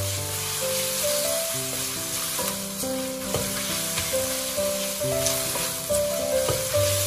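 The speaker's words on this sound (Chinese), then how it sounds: "继续开小火翻炒，把甜面酱炒出酱香味" Minced meat stir-fried with sweet bean sauce over low heat in a wok gives a steady, close sizzle with light stirring throughout, while background music plays over it.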